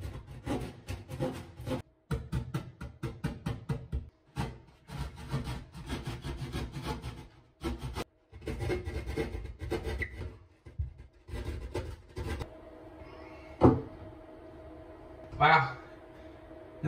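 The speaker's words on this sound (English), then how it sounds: "Now we're ready to use our drywall saw or whatever they call this thing." A handheld drywall saw cuts through drywall in a home network closet with rapid, rhythmic rasping strokes in bursts, close and loud, then pauses with a couple of brief knocks near the end.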